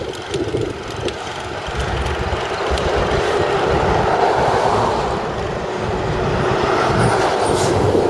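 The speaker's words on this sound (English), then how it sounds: "So this train's still going." Very long train rolling past along a coastal route, a loud continuous rumble and rattle of wagons heard close by and steady throughout, with no speech.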